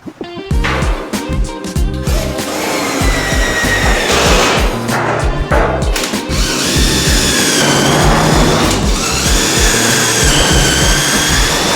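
A power drill drives roofing screws fitted with rubber weather seals into the aluminum of a shipping container storage building, with loud, close whirring bursts that rise and fall as each screw spins in.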